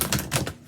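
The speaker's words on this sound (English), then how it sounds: "So let's shuffle." Tarot cards being shuffled by hand, a quick burst of crisp riffling flutters in several pulses over under a second, close and moderately loud with no voices.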